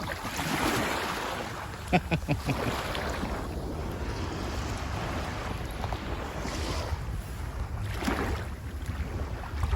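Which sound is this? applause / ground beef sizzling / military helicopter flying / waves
waves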